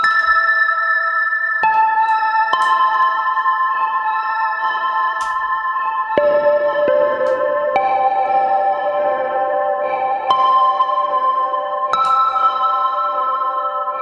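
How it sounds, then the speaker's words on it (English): Sustained electric guitar chords through a Pladask Stereo Dradd pedal, drenched in wide, washy reverb, each change blurring into the next with trailing echoes from a fade-out delay that slowly fade. "It's much more of a traditional reverby washy sound. And then with the fade out delay."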